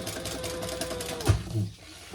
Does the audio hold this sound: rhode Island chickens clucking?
no